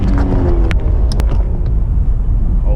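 Car engine revving hard in neutral with a deep, loud, continuous rumble and a few sharp transients, from a car fitted with an aftermarket intake.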